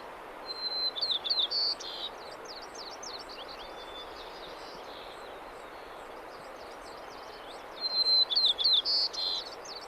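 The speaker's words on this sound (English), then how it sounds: "White-crowned sparrow. Very similar to the other bird, except for it's more buzzy." A white-crowned sparrow sings two buzzy songs in winter, one near the start and one near the end, clear against a quiet hiss.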